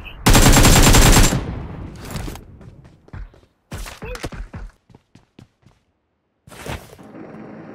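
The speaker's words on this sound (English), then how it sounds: "firing sounds detected" Automatic gunfire in the mobile game PUBG Mobile: a long loud burst of rapid shots, then scattered single shots and short bursts with gaps between, close and dominant.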